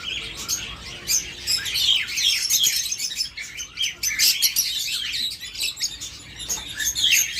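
Dense, continuous chirping and tweeting from a pair of red-eye creamino opaline pet birds, lively and close with overlapping high calls and no talking.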